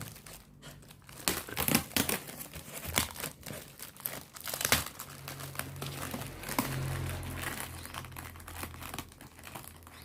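A layered cardboard parcel being unwrapped, with steady crinkling, crumpling and tearing of packing material close up, punctuated by sharp cracks and rustles over about ten seconds.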